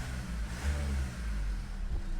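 A 2015 Renault Master III van with fault codes DF503/DF012 runs its engine, giving a steady, close, low droning hum that swells slightly midway and continues without pause for the whole stretch, with no talk.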